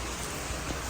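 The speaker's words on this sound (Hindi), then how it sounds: "अच्छी हो रही है बारिश।" Dense, steady hiss of heavy rainfall during a storm in Karachi, a constant broadband wash with no pauses or voices.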